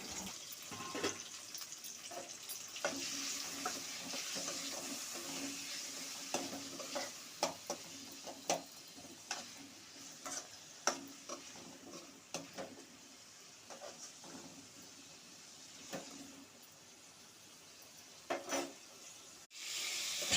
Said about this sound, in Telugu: మనం 2 టమాటాస్ని తరిగి పెట్టుకున్నాం, దాన్ని వేసి ఫ్రై చేసుకోవాలి.